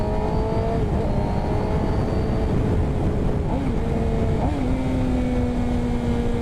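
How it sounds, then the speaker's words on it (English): Suzuki GSXR 750 motorcycle engine braking in fifth gear while riding, a loud, close, steady drone with slowly falling engine pitch and brief shifts, wind roar underneath. "I'm gonna go back into 5th gear again, and I'm gonna engine brake to show you guys."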